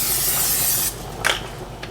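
A can of cooking spray hisses steadily onto a casserole dish for homemade mac and cheese, one close, continuous spray that cuts off, followed by a few light clinks and rubs.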